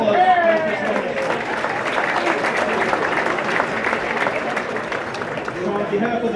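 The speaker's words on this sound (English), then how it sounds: "So a round of applause" A room of brunch guests at a St. Patrick's Day Parade gathering breaks into steady, moderately loud applause, with voices mixed in among the clapping.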